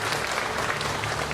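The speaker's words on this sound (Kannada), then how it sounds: "ಬರ್ಲಿ ಅವರಿಗೆ ಜೋರಾದ ಚಪ್ಪಾಳೆ" An award ceremony audience at the News18 Kannada Varshada Kannadiga 2026 event gives loud, dense applause: a steady wash of many hands clapping with faint crowd murmur.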